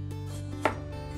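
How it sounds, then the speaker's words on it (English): Cucumbers being cut up for dill pickles, a single crisp knife chop against a board standing out near the middle over a faint steady background hum, with no talking. "I'm gonna get my cucumbers all cut up."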